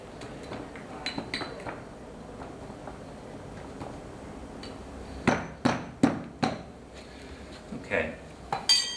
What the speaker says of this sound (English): use the weight of the tool now to compact the sand